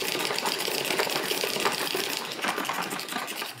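A salad spinner spinning lettuce, a steady close whir and rattle with water being flung against the outer bowl, fairly quiet and continuous, with no voices.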